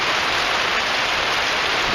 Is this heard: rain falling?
yes